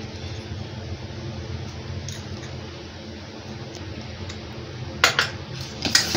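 Whipping cream and powdered sugar are mixed by hand in a bowl, with a low steady swishing and churning, followed near the end by a few sharp clinks of a utensil against the bowl, close and without talk.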